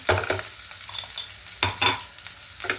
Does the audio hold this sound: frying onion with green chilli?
yes